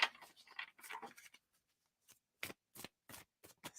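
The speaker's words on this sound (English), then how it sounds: "So we shuffle a bit." Tarot cards are shuffled up close in short, soft riffling bursts separated by brief pauses, quiet and crisp against near silence.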